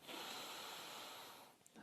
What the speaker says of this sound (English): we're going to start with some nice deep breathing going in through the nose